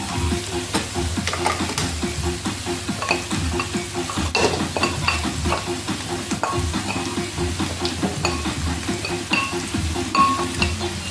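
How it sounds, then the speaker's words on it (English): Carrots stirred in a hot, sizzling pan for Jamaican-style strip steak, with continuous crackling frying and rhythmic scraping and clinking of a utensil against the pan, close and busy throughout. "I'm going to add in some carrots."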